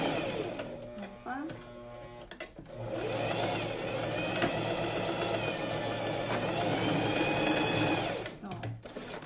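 A sewing machine stitches a seam on a coat in a steady, close, continuous whir that runs for most of the stretch, starting and stopping with brief pauses at each end.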